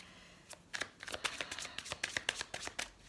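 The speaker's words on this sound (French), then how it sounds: "on va tirer quelques cartes du tarot de la magie verte" A green magic tarot deck being shuffled by hand, close and crisp: a quick series of riffling, flapping card bursts in an uneven rhythm, with no talking.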